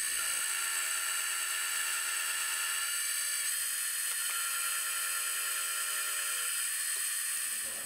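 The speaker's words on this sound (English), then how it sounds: "which I'll square up on the mill." A milling machine squares up a block of aluminium, giving a continuous high-pitched whine with steady tonal cutting noise, shifting in pitch a few times and falling off as the cut ends.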